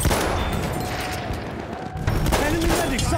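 Rapid machine gun fire from the video game Battlefield 1 crackles in dense bursts with explosive booms, while shouting voices sound over the battle noise.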